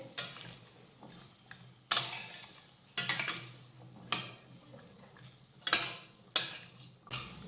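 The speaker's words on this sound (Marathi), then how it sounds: "ह्या बटाट्याच्या फोडी या तेलावर छान अशा फ्राय करून घ्यायच्यात" Potato pieces fry in oil over a low flame, a soft sizzle broken by several sharp clinks and scrapes of a utensil stirring in the pan at irregular intervals.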